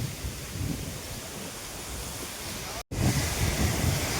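Strong wind gusts across open farmland as dark clouds build before rain, a loud, continuous buffeting roar with a brief break near the middle.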